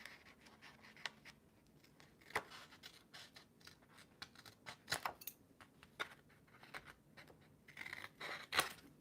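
Scissors cut paper for a journal in a quiet room, a series of soft snips and scratchy rustles with sharp clicks scattered irregularly across the clip.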